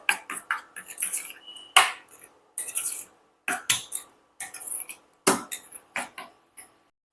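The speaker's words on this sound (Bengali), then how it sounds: "এবার পেস্টটাকে ভালো করে মিশিয়ে নেব।" Spoon scraping and clinking against a bowl while pea lentil paste is mixed with chilli and turmeric powder, a run of close, sharp knocks and scrapes in irregular bursts, with no talking.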